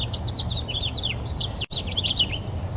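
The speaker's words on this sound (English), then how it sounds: "you hear all these birds singing away? That is amazing." Several small birds chirp and trill continuously, high quick warbling phrases over a low steady background hum.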